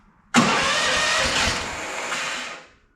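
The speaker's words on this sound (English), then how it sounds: "So we're going to go ahead and fire it up." A cheap FLAND FL1000 asphalt roller's small engine catches abruptly and roars at a steady, loud, close-up run for over two seconds, then cuts out and falls quiet.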